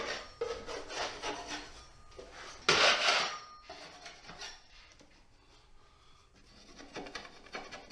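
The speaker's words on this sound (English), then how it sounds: "All this can be taken care of just with scraping. No sanding needed. Scrape." A blade scrapes roughly across dried skim coat on a wall in repeated rasping strokes, one stroke louder and harsher than the rest, close up and without talk.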